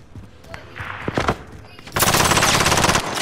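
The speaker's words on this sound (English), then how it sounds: "Incoming rounds." Automatic gunfire in Call of Duty Warzone: scattered shots and clicks give way to a loud, sustained burst of rapid machine-gun fire filling the last second and a half, close and dense.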